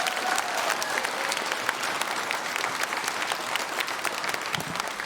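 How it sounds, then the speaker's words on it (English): A crowd gathered for a school prize-giving ceremony claps steadily for the helpers, a dense, even patter of many hands sustained throughout at a fairly close distance. "Can we have a round of applause for all of you?"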